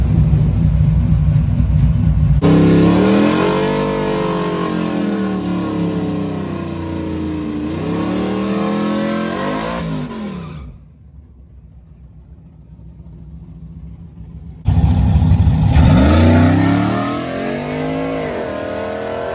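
A cammed Ram truck with a naturally aspirated 5.7 engine and six-speed manual makes a drag strip pass, revving loudly up through several gear changes, dropping off briefly, then roaring again close by.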